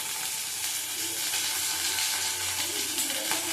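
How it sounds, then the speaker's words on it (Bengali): Katla fish frying in hot oil in a pan gives a steady, close sizzle that hisses continuously without a break, with no voices over it. "মাছটা ভাজা দিয়ে দিয়েছি।"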